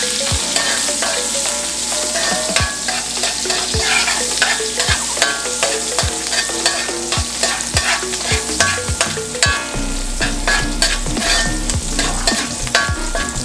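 Onion pieces sizzle in a hot pan for Jamaican curry chicken, a steady frying hiss broken by regular scrape-and-stir strokes, close and clear with no talking.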